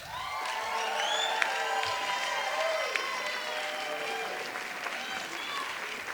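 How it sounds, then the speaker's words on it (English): An audience at a comedy show in the Paramount Theatre applauds and cheers steadily as a comedian takes the stage, with whoops and shouts rising over sustained clapping and a voice speaking faintly underneath. "You guys can keep clapping."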